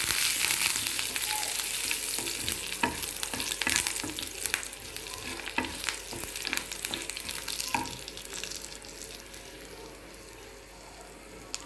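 Curry leaves crackle and sizzle in hot oil while a Ceylon spinach chutney is being made, giving a steady, close frying hiss with scattered sharp pops and occasional stirring scrapes throughout.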